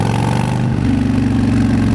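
Harley-Davidson Fat Bob motorcycle engine with aftermarket pipes, engine braking off throttle: a steady, loud, close low burbling rumble with dense rhythmic exhaust pops, holding evenly throughout with no voices.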